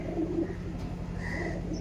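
Mature teddy pigeons coo softly and continuously in low murmurs over a droning background, with a brief higher chirp or two.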